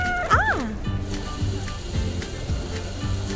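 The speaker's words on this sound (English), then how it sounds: "Meow." One short, clear meow from a cat, followed by a series of soft repeated mechanical clicks from a LEGO Technic model.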